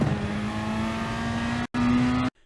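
Peugeot RCZ Gr.3 race car engine in Gran Turismo Sport on the Dragon Trail Gardens circuit holds a steady high drone with a brief cut, then resumes before stopping, loud and alone.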